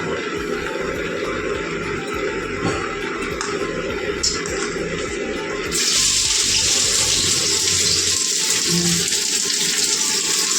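Water is poured slowly into a cooking pot with onions in a home kitchen, a steady hissing stream that grows louder and brighter partway through and then runs on evenly.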